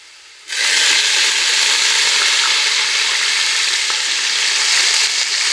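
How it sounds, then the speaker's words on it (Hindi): Mutton frying in a pot for pulao starts with a sudden loud sizzle that holds as a steady, close, intense hiss for the rest of the clip. "गोश्त को थोड़ा भूनेंगे।"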